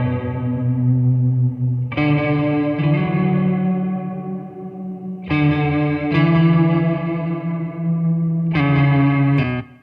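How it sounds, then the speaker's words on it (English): Heavily fuzzed electric guitar chords ring out loud and sustained, with fresh strums at a few points and a lingering, echoing tail. "I go kind of from an extremely vibey to a very fuzzy type distortion"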